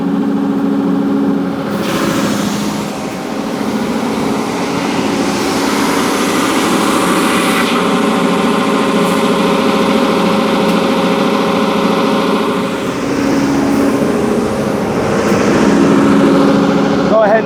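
A wide belt sander running with a board fed through, a loud steady mechanical drone and hum throughout with shifts as the board passes, and a voice speaking over it.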